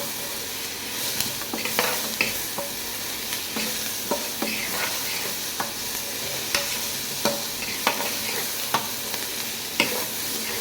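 Ingredients for a paneer dish are roasted lightly in a pan while being stirred, giving a continuous soft sizzle broken by repeated scraping strokes of a spatula against the metal, with no talking.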